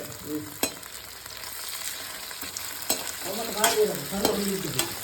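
Tomatoes frying in ghee in a pan for a Mangalorean chicken sukka, a steady crackling sizzle with scattered stirring clatters and scrapes of a spoon against the pan, close and alone.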